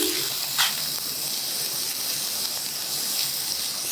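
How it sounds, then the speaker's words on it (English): Carrots sizzling in a lightly oiled pan for kimbap, a steady soft hiss with a few brief pops and crackles, close and continuous. "Just lightly oil the pan. Put the carrots in."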